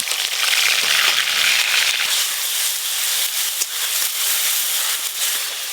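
Grated onion sizzling in hot mustard oil tempered with green cardamom, cloves and cinnamon, a loud, steady hiss with crackling spits running throughout, close and without talk.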